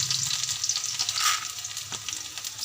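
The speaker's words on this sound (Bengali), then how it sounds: "রসুনটা একটু লাল লাল করে ভেজে" Chopped garlic frying in oil with dried red chillies and black cumin, a close, bright hissing sizzle with quick crackles and a soft stir or two, swelling briefly midway and otherwise steady.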